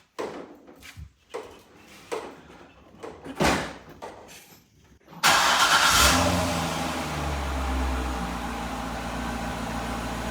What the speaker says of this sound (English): The car fired up smoothly